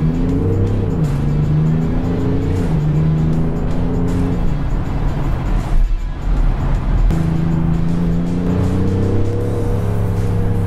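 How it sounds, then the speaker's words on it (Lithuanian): A BMW engine revs and accelerates close by, rising through gears in repeated climbing sweeps. There is a brief lull mid-way before it pulls hard again. "Čia įdomu, ar garsas iš duslintuvo, ar per kolonėlės."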